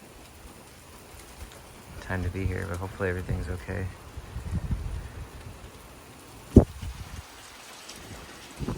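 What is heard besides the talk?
storm with strong winds and rain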